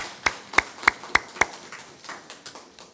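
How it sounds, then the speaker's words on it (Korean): Applause from a church congregation during a Sunday worship service: five sharp, evenly spaced claps, then softer claps that trail off, close and with no talking. "우리 하나님께 영광의 박수와 우리 찬양대 격려의 박수로 감사합니다"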